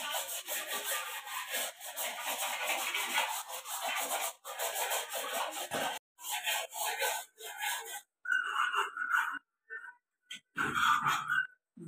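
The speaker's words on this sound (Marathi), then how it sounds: "आता त्या पट्ट्या कट करून घेऊया आपण." Knife or cutter slicing pastry dough into strips for paneer cheese patti samosa, close and fairly loud, with a steady rubbing, scraping stream that breaks into short separate cuts toward the end.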